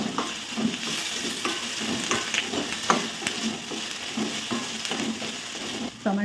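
Ginger garlic paste fries and sizzles in a pan as it is stirred, a steady close hiss broken by scraping and clinking of the spoon, with no talk.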